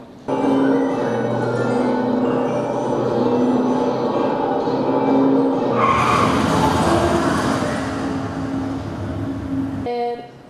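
A car skids with a long, loud tire squeal in a traffic accident, sustained for about ten seconds and growing harsher and noisier midway before cutting off abruptly.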